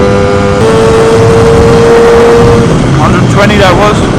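A Lambretta Targa Twin 275cc piston-ported scooter engine accelerates hard on a road test, a loud close buzzing note that holds and then climbs, with wind rush and a voice talking over it.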